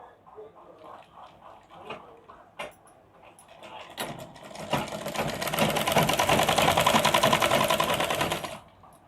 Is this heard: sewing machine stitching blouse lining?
yes